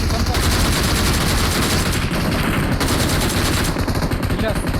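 Continuous automatic gunfire from PUBG Mobile, loud and dense throughout, with rapid repeated shots and bursts filling the whole stretch; voices can be heard talking excitedly underneath.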